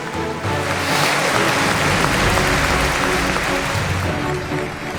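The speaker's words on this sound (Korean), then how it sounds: "미국 상하원 의원들이 모두 일어나 박수를 칩니다" Members of the US Congress give a standing ovation after a speech by President Yoon Suk Yeol, a broad, roaring wash of applause from a large chamber that swells in quickly, holds steady, then eases slightly at the end.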